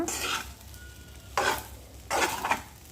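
A spoon stirs egg fried rice in a hot pan, scraping three times against the metal over a soft, steady sizzle of frying; close and clear, with no voices.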